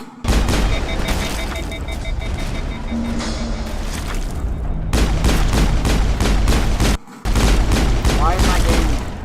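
Grenade blasts and gunfire in the Mass Effect video game: dense, loud combat noise with rumbling booms and rapid bursts of shots, briefly cutting out before resuming, with voices mixed in.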